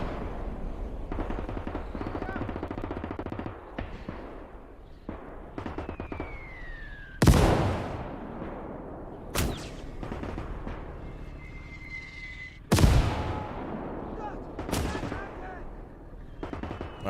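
Mortar blasts and rifle fire crack across a WWII battlefield in Gates of Hell, with a few big booming impacts and scattered sharp shots over a continuous din of combat noise and distant shouting.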